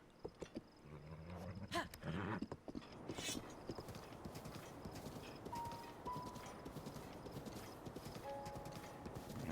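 Rapid hoofbeats of a galloping horse in The Legend of Zelda: Breath of the Wild pound steadily and close, with roar-like rumbles and brief whinny tones mixed in game-style audio.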